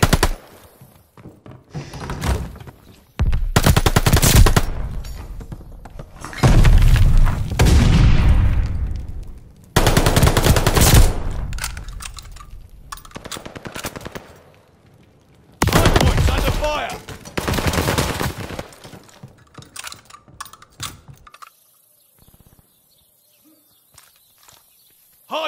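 Bursts of automatic gunfire and rapid shots ring out around a hardpoint in a shooter video game, loud and close, separated by short quiet gaps and mixed with footsteps.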